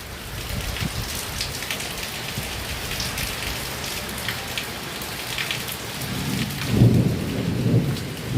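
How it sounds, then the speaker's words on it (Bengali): Heavy rain pours down steadily in a thunderstorm, with a dense, constant hiss of drops on surfaces and a deep thunder rumble swelling near the end; no one speaks. "দেখো কি জোরে বৃষ্টি পড়ছে, বাপরে বাপ।"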